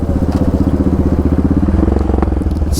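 Big 5 Raptor engine pulling hard in 4th gear, a loud, close, rapid pulsing exhaust roar that stays steady and throaty throughout, with no talk over it.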